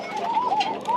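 Pigeons coo softly at a pigeon farm, a brief, continuous low burbling from nearby birds.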